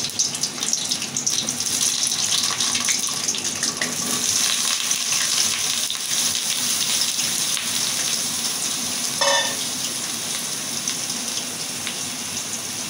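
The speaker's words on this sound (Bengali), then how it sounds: "তো আমার তেল গরম হয়ে গেছে, আমি বেগুন কয়টাকে ভাজিয়ে নেব।" Eggplant pieces fry in hot oil, a loud, dense, steady crackling hiss that runs on without pause, with one brief clatter partway through.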